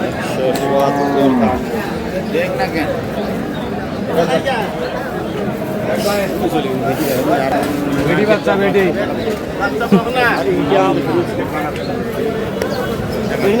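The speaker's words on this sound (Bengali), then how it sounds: "গাভী বাছুর" Dairy cows and calves moo repeatedly at a busy village cattle market in Aftabganj, Dinajpur, the bellows rising over constant crowd chatter and bargaining voices, with birds faintly audible.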